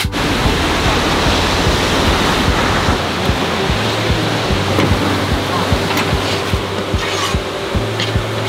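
Ocean surf breaks along an island shore where surfers are out, a dense, continuous wash of waves with steady hiss and low rumble, close and loud throughout.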